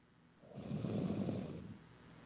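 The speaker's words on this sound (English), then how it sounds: "Dude, I hear you breathing." A single heavy breath, muffled and thin as if heard through a phone, rises and fades over about a second with no talking.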